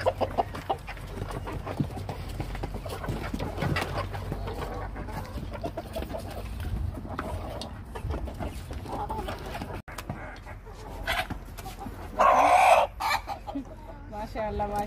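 Chickens cluck in a rooftop coop of birds raised from two-day-old chicks, a steady low murmur of fowl with scattered calls and a brief louder squawk or crow near the end, no one speaking.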